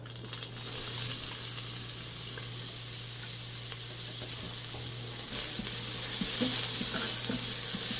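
Cumin seeds and finely chopped ginger sautéing in coconut oil in a pan, a continuous close sizzle that grows louder partway through, with light stirring clicks.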